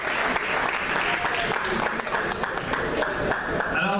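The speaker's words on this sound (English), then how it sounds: "Can we give a big round of applause" Sustained applause from a crowd at a school homecoming event, dense steady clapping throughout with a voice faintly audible underneath.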